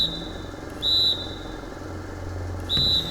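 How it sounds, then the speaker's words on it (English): Two sharp, shrill referee whistle blasts sound in NBA 2K25 basketball, each about a third of a second, over a low arena crowd murmur. "the whistle blows as the..."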